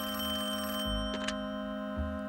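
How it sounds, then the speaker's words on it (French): A telephone rings in an animated children's cartoon, a sustained bell-like tone with a couple of short clicks and knocks, moderately quiet with no speech. "ce téléphone vient à point nommé."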